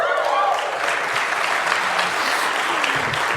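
Audience applause at a tech community conference, a dense sustained clapping from a large crowd that holds steady and fairly loud for the whole stretch.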